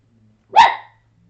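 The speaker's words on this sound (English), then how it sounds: "Dogs in the room. Dogs are barking at a noise." A dog in the room gives one sharp, close bark, with near silence before and after it.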